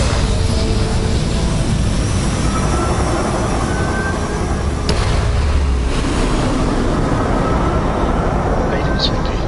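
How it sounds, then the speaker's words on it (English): A Starfield spaceship engine roars steadily after liftoff: a dense, continuous rumble and hiss that stays loud and even throughout, with no breaks. "Liftoff complete."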